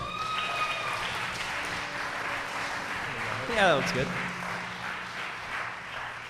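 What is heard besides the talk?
audience applause for a storyteller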